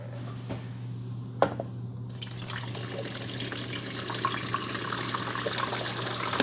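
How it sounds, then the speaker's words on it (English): Water pours steadily into the reservoir of a Cuisinart SS-GB1 coffee maker with a continuous splashing rush, preceded by a couple of sharp clicks, close by and without voices. "we're going to need to pour the water right here"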